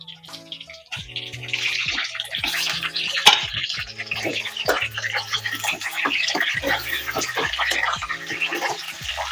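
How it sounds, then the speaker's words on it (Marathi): Stuffed brinjals are lowered one by one into hot oil, producing bubbling, spattering sizzles with irregular pops that build and continue steadily, close by, with a faint voice in the background. "आता आपण एक एक वांग त्यात सोडून घेऊया।"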